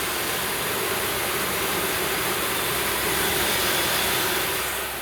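Corn pours continuously into a grain dryer, making a dense, even rushing hiss with no pauses.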